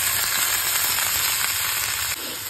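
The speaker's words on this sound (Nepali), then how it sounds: "अनि त्यसको बादमा पाँच फोरन हाल्छु अनि हाल्छु थोरै प्याज" Panch phoron spices and onion frying in oil in a pan: loud, continuous, close sizzling with crackling pops, softening slightly near the end.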